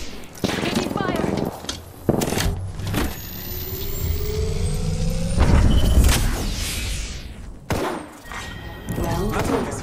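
Scattered loud gunshots and thuds in a first-person shooter game, sharp separate bursts spaced over several seconds with a whirring mechanical hum between them.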